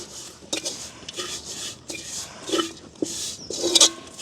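A utensil stirs crushed dried red chillies through dried fish sambal in a pan, making close, irregular metallic scrapes and clinks every half second or so over a soft rustling background.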